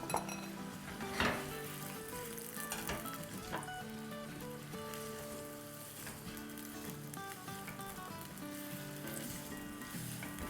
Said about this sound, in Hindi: तो अब इसको हम फ्राई करेंगे इस ऑयल में जो थोड़ा सा गर्म हो गया है।